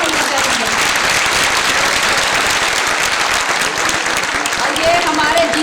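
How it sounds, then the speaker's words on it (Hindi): An audience at a Lady Health Workers union oath ceremony breaks into loud, sustained applause, dense clapping filling the whole stretch with some voices mixed in. "तो उन्होंने बड़ी तालियां होनी चाहिए।"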